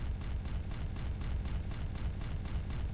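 Explosions in the video game Wings of Vi form a dense, continuous barrage of rumbling booms, with rapid bursts repeating roughly every quarter second over a heavy low roar.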